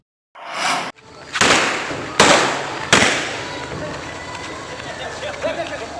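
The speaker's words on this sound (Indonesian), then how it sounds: "Letusan tembakan peringatan ini mewarnai penangkapan Agus Rizal" Warning gunshots fired during a police arrest at a roadside: four sharp loud cracks about a second apart, each followed by a decaying echo, with faint crowd noise and movement afterward.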